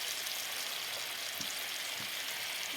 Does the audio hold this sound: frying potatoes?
yes